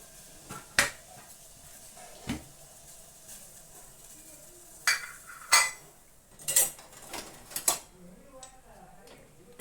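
A spoon and other utensils handled while cooking on a gas stove, a series of light metallic clinks and taps at irregular intervals, close and fairly quiet.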